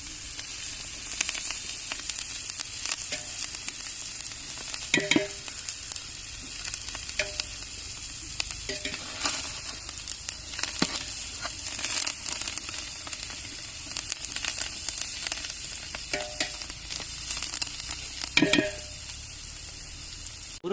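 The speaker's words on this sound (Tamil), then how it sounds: "முருங்கைக்கீரை வெங்காயம் நல்லா வதங்கிருச்சு" Drumstick leaves and onion fry in a pan with a steady, close sizzle, punctuated by occasional stirring clinks and scrapes.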